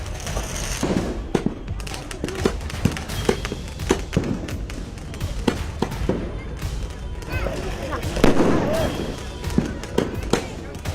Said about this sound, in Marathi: मुंबईत दिवाळीत फटाक्यांची आतषबाजी सुरू आहे.